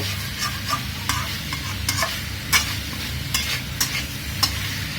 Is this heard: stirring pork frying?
yes